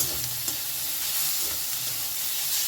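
Chopped vegetables with capsicum, onion and tomato stir-fried in a pan, a steady close sizzle with soft scraping stirs throughout, no talking.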